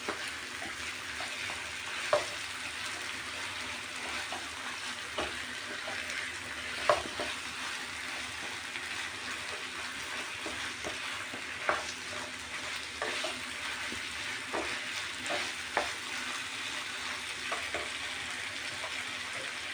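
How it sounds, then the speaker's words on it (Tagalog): Beef for picadillo fries in a pan with a steady, close sizzle, while a utensil scrapes and stirs it in occasional sharp strokes. "Iluluto natin mabuti yung ating karne."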